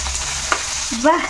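Oil spits and sizzles in a pan while a Telugu ridge gourd peel chutney is being fried and stirred. A steady close sizzle carries one sharp pop partway through, then a brief rising whine near the end.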